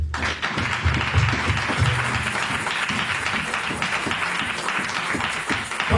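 A church congregation applauding during a service, a continuous dense wash of clapping with a low murmur beneath, steady and fairly loud throughout.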